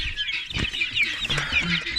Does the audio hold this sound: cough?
no